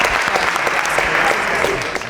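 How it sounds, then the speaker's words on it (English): Brief burst of audience applause on a podcast show, lively clapping mixed with some crowd noise and voices, loud and continuous for about two seconds. "Do we clap about that?"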